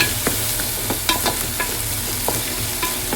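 Onions frying in a pan for pulao, a loud constant sizzle punctuated by repeated spatula scrapes and taps, close and without talk.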